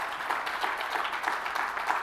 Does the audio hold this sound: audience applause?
yes